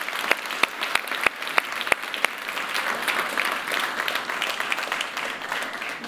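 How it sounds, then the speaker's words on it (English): A room full of applause at a health-tech innovation challenge awards finale, starting with a few sharp individual claps and swelling into a steady, even round of clapping. "just sort of have a round of applause"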